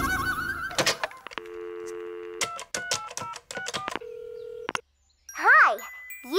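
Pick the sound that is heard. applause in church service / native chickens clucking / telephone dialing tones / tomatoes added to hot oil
telephone dialing tones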